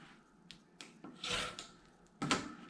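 A rotary blade cuts across a quilt block, giving short scraping swipes and light clicks of the ruler and cutter, several bursts spaced unevenly, close but soft with no talking.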